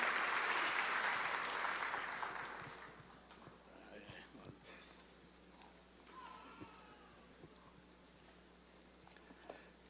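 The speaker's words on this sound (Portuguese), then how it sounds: "Vamos receber esse irmãozão aí com a palmas." A church congregation applauds at a Sunday morning service to welcome a pastor; the clapping is loudest at the start, then thins and fades within a few seconds into a quiet room with scattered faint sounds.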